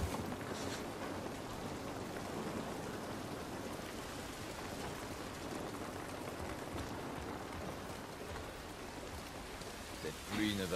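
Steady, faint rainfall in the video game The Last of Us Part I hisses evenly throughout, with a brief soft knock near the end; no voices heard.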